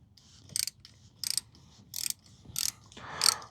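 A ratchet clicks in five short bursts while loosening the 10 mm negative battery terminal on a 2011 Toyota Highlander 3.5L V6, each burst crisp and close, with quiet pauses between and a slightly longer final burst.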